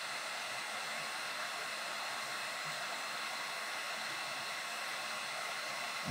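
A hot air tool heating the silicone side of a computer chip blows a steady, even rushing hiss that holds unchanged from start to finish with no talking.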